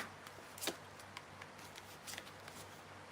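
Tarot cards being shuffled and drawn during a reading, giving soft, quiet papery flicks and a few sharper snaps of cards sliding against each other, close and faint, with no speech.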